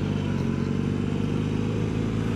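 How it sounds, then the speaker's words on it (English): Motorcycle engine revving high, a dense sustained buzzing drone held steady and loud throughout, with a strong low rumble and no pauses. "Man, this bike revs so high, I can do anything in any gear."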